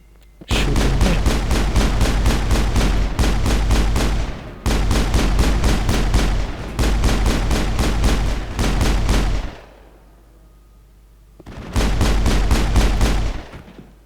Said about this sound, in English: shoot into the room to trigger enemies to come. Going back, so it's just shooting them.